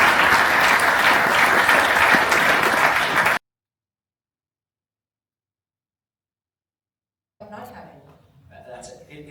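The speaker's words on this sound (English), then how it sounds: "Round of applause for these." A conference audience at a large acquisition event in Asia breaks into a loud, dense burst of applause, which cuts off abruptly into silence before a voice starts speaking at a distance.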